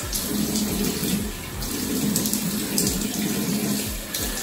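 Tap water runs steadily into a sink during face washing, a continuous close splashing stream with slight rhythmic variation as hands move through it, no voices.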